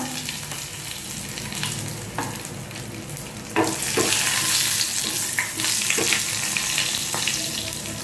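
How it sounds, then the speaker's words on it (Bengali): Slit green chillies sizzle as they hit hot oil while cooking a Bengali cauliflower dalna, a steady close frying hiss that swells sharply midway with stirring clatter, no talking. "এবার এতে দিয়ে দেবো 3টে চেরা কাঁচা লঙ্কা"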